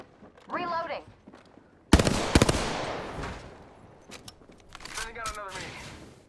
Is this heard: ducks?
no